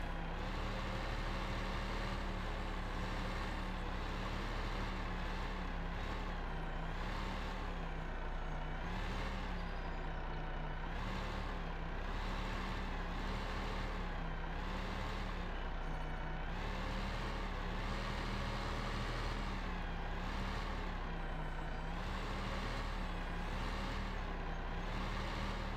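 Truck hauling a log trailer in Farming Simulator 15, backing into a pond: a steady, loud engine drone with a wavering pitch and faint high tones running the whole time, no voices.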